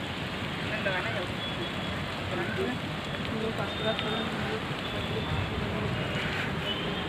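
Heavy rain falls near a temple on a hillside, a dense, even hiss of drops hitting surfaces that continues without a break.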